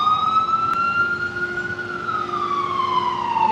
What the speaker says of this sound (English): Oh my God, the sirens.